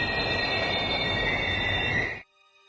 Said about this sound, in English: Sparks fly as the train slams on its brakes.